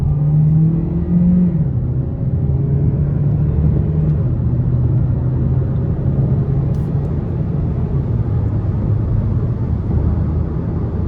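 A 2025 Hyundai Sonata SEL Hybrid accelerating hard in sport mode, its engine droning and rising in pitch with a steady road rumble and whir heard from inside the cabin, loud and continuous.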